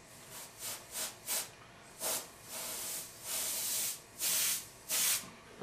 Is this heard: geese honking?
no